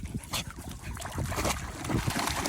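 Dogs playing at the beach, with faint panting, splashing and scuffling bursts over soft background wash, no clear talking.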